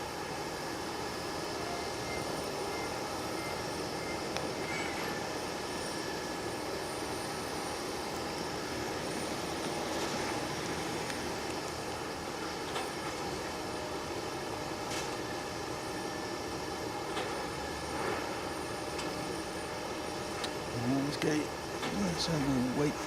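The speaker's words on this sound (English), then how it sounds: "in the meantime we've got a long wheelbase Q400 Dashi" At Nagasaki Airport, a Bombardier Q400 Dash 8 turboprop hums steadily at a distance, a constant broad engine drone lasting the whole stretch with faint background noise.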